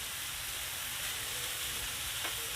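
Fajita meat frying on a Blackstone griddle, a steady, dense sizzle that holds evenly throughout, close and continuous, with a brief scrape near the end.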